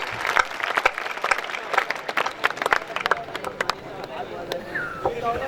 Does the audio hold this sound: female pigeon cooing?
no